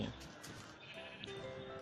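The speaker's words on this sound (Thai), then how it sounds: "แกะสองตัว แกะโง่โง่กับวัวหนึ่งตัว" Sheep bleat in the Minecraft video game, a couple of nasal wavering bleats at moderate distance, set against faint game ambience and a soft background voice.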